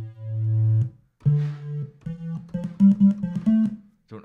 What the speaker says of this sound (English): Also triangle wave here.